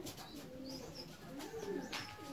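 Fancy pigeons, including a domino-on-black swallow pair, coo softly nearby in a loft, with low repeated throaty calls rising and falling over faint background noise.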